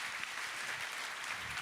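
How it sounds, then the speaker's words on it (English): Steady applause from an audience at a financial investment summit, honoring the panelists; a dense, continuous wash of clapping without speech, moderately quiet. "Please join me to give panelists a round of applause."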